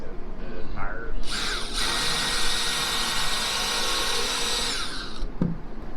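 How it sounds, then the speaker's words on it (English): A power drill whirs steadily for several seconds as it bores pilot holes into wood, starting and stopping with a short spin-up and a click at the end. "We even pre-drilling holes."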